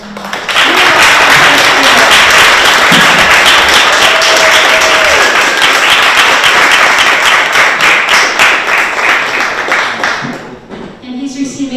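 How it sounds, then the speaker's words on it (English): Sustained round of applause from a gathered crowd honoring Charles Sanderson at a Boston Post Cane and Century Club presentation, dense and loud for about ten seconds before tapering off, with a few voices murmuring underneath. "Let's hear a round of applause for our"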